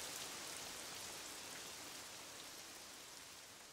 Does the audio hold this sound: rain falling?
yes